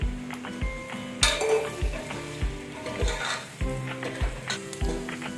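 Soya chunks (meal maker), already fried in oil, sizzle steadily in a spoonful of ghee for a biryani, with regular stirring scrapes and clinks close by, under light background music.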